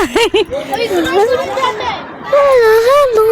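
Busy crowd of adults and children gathered in a public garden, a continuous babble of overlapping voices with a nearby child's high-pitched chatter rising over the din.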